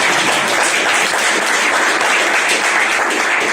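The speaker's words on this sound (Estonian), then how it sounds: "julgustage need aplausiga" A stand-up comedy crowd gives loud, sustained applause, an even wash of many hands clapping at once with no voice over it.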